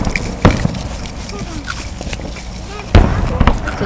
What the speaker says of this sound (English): You already know I'm watching fireworks.